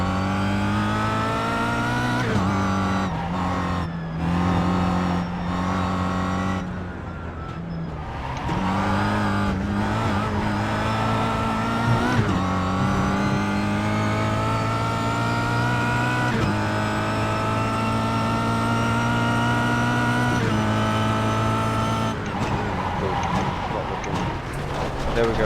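Race car engine in the iRacing sim drones at high revs throughout, with gear shifts and brief dips in pitch as the car brakes and accelerates, while a voice is heard at times.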